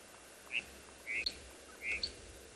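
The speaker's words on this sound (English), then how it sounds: "there are quite a lot of mixed birds sound this morning because of the warming that is taking place" A few short, bright bird chirps, three or four in quick succession, sound faintly against quiet morning air on a South African safari.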